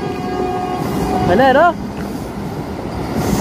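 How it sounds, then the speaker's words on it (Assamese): A Vande Bharat Express train rolls past with a steady rumble, and a short wavering horn blast rises midway before fading back into the running noise, with a voice speaking briefly. "এইফালে এখন ট্ৰেইন কিনি থৈছোঁ, বন্দে ভাৰত এক্সপ্ৰেছ"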